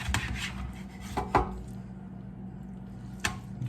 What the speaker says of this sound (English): all that's left to do now is start slicing into this thing here